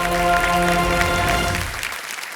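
A studio audience on the quiz show Kaun Banega Crorepati claps in sustained, even applause that fades toward the end, with no talk over it.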